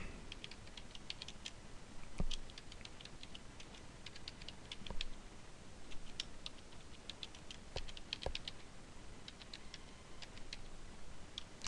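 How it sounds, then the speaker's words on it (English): Computer keyboard typing as a search query is entered into a legal research database, with steady soft key clicks and occasional sharper taps, close and continuous without talk. "Pretty brutal watching me type or listening to me type."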